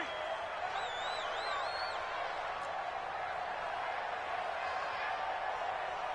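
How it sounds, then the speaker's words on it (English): Stadium crowd in a football video game, a steady distant roar of cheering with a few high wavering whistles over it, continuous throughout. "The crowd getting into it as we come up on a big third down."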